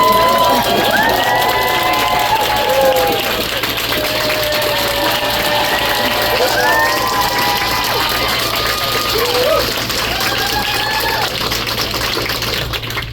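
A crowd at a book event cheers and shouts loudly and continuously, overlapping whoops and excited voices blending into a dense, energetic roar that holds steady throughout.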